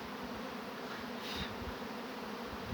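Honey bees buzz steadily in a dense, continuous drone, close and fairly quiet, with no voices.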